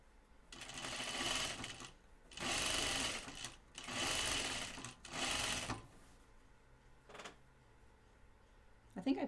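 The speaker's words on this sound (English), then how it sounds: "I will try and make sure I sew in a nice straight line." A sewing machine stitching a yoke seam on a button-up shirt, running in four close bursts of steady whirring with brief pauses, followed by a few soft clicks and quiet handling; no speech over the stitching.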